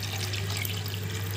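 Water is poured into cooked lentils for sambar, a steady, close trickling splash over a low constant hum, with no speech.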